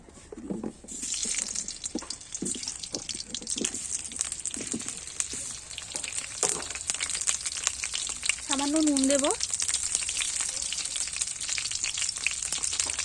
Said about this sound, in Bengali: সেই আলুগুলো আমি একটু ভেজে নেব